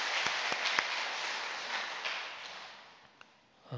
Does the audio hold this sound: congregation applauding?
yes